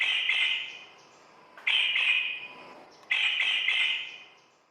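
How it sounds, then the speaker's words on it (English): A harsh, squawking bird call in the Galápagos Islands repeats three times at even intervals, each lasting about a second, against a quiet background. "he had heard a beautiful bird call in the distance"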